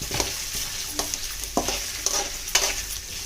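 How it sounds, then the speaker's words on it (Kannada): Diced potatoes fry in oil in a pan, a steady sizzle broken by a few clear scrapes of a ladle stirring them, close and with no talking. "ಆಲೂಗಡ್ಡೆ ಸ್ವಲ್ಪ ಚೆನ್ನಾಗಿ ಫ್ರೈ ಆಗಬೇಕು"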